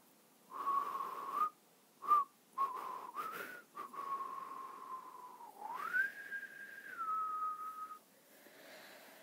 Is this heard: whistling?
yes